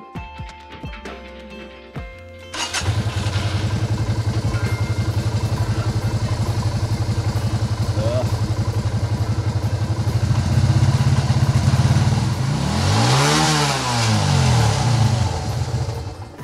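A motorbike engine catches after a few seconds of quiet clatter, then idles loudly and steadily before revving up and down near the end, close and alone.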